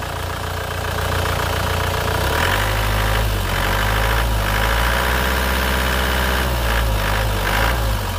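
A 2012 Isuzu Panther LV with a 2.5 turbo diesel idles close by, loud and steady with a knocking diesel rumble that settles to a slightly lower pitch partway through, with no voices.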